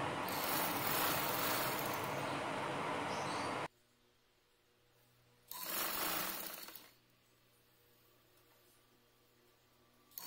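A sewing machine stitches the folded 2 cm hem of an anti-slip bed sheet in two loud, steady mechanical runs with a quiet pause between them.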